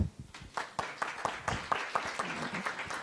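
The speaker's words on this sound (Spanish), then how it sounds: "Démosle un fuerte aplauso." An audience at a family conference applauds a speaker with quick, close bursts of hand claps that start strong and thin out slightly over a few seconds.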